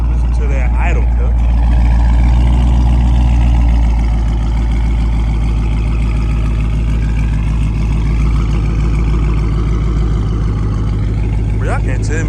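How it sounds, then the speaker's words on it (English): A Dodge Charger Scat Pack sits at idle with a deep, loud, steady rumble close up, the note lifting slightly for the first few seconds and then holding even. "Listen to that idle"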